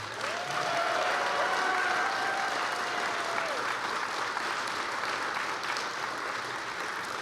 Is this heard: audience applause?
yes